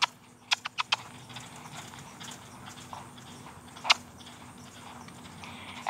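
A horse is ridden at a trot, giving a few sharp, close hoof clops in a quick cluster at the start and another strike a few seconds later over a quiet background.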